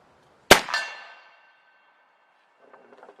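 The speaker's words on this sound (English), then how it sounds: "We're gonna go ahead and try to take one more shot at this plate out here." One sharp crack from an Airforce Texan .457 big-bore air rifle, followed by a ringing clang off a distant steel plate that decays over about a second, then faint rustling.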